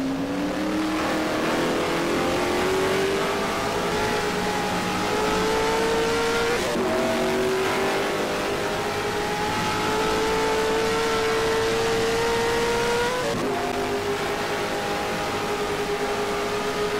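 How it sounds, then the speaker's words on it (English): Race car engines scream during a circuit race. Gear by gear the pitch climbs in long pulls, each broken by a sharp drop at the shift, loud and close and continuous, with no voices. "here goes Austin up the inside, so I suspect Jason to be yielding here"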